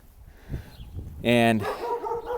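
Neighborhood dogs bark outdoors, one loud sustained howling bark near the middle after softer distant yips, while someone speaks briefly.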